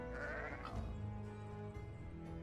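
Sheep bleating in the digital board game Caverna, a single wavering bleat rising and falling over soft game background sound, fairly clear and close.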